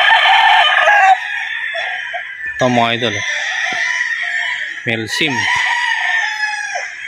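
Champion gamecock roosters crow loudly nearby, two distinct crows standing out over a constant din of other fowl, with someone talking briefly.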